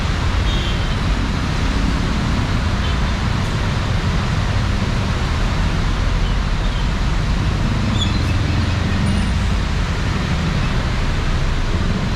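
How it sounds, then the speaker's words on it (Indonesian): Dense night traffic in a jam in central Jakarta makes a loud, continuous broadband roar of engines and road noise with no breaks. "Sayang ya, macet."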